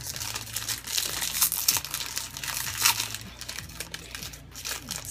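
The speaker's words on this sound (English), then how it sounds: "a box, and then it has a plastic wrapper in it." A plastic wrapper inside a box of Asian chocolate candy crinkles and crackles as it is pulled open by hand, with close, continuous rustling in uneven bursts and no talking.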